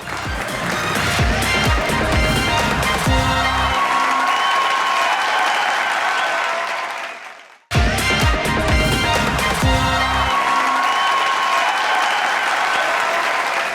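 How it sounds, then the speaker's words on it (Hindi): Studio audience applause on a talk show, loud sustained clapping that runs for several seconds, cuts off abruptly, then resumes just as full. "तालियां हो जाए।"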